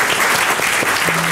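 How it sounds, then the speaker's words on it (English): An audience applauds at a keynote talk, with dense, steady clapping filling the room at full loudness throughout, with no talking over it. "So round of applause and thank you,"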